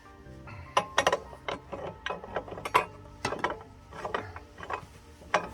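Metal clicks and ratcheting taps from tightening a jam nut against the outer nut on a wheel bearing of a 400 EX ATV, a series of short sharp mechanical clicks in irregular bursts, close up with no talk.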